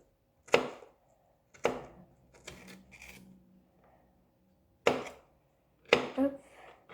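A knife chopping vegetables for tacos on a board: five sharp, separate chops with short pauses between them, close and clear in an otherwise quiet kitchen.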